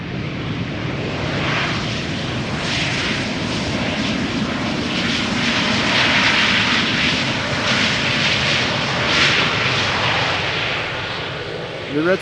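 A jet airliner lands at Schiphol Airport, its engine roar loud and steady for the whole stretch, rising slightly in the middle as it passes and tapering off near the end, with no talk over it.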